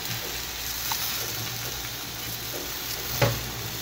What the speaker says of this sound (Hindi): अंडों में जो हमने मसाला मिक्स करके रखा था वो डाल लेंगे।